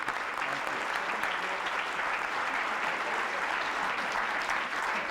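A large audience applauds at a morning Grammy nominations announcement, a dense, steady wash of clapping that holds at an even level from start to finish with no voices on top.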